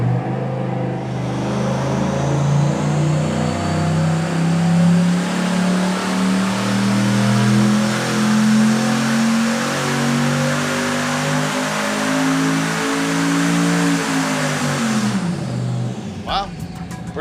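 A turbocharged LS V8 running on an engine dyno with an Air Raid oiled element air filter, a loud sustained pull whose pitch climbs steadily over many seconds, then cuts off abruptly, with a brief sharp sound at the end.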